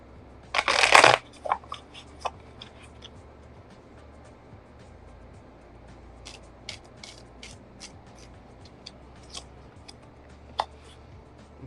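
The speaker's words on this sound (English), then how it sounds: "Shuffle these up." Tarot cards are shuffled in a quick, loud riffling burst near the start, followed by a few softer shuffles and scattered light taps and flicks against a quiet background.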